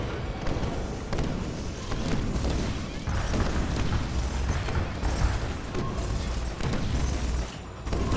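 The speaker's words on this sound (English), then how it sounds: "EMP grenade casted." Game battle in Command and Conquer: Kane's Wrath as an EMP grenade goes off, a dense rumbling mix of blasts, bursts and mechanical clatter running steadily for several seconds alongside a commentator's voice.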